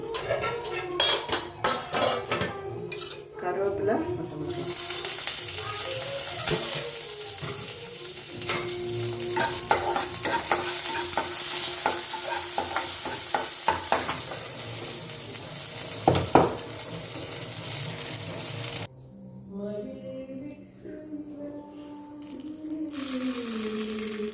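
Mustard seeds and cumin crackle and sizzle in hot oil and ghee for a tempering, with loud popping, metal spoon clinks against the pan and stirring, close and busy, before the sound drops out near the end.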